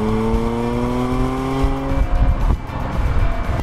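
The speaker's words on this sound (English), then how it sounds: "This compact SUV is really packed with speed, power, and great handling. Perfect for the Autobahn." A compact SUV with a 245 km/h top speed driving fast on the German Autobahn: a strong, steady engine drone with rising tones that gives way to rumbling road and wind noise.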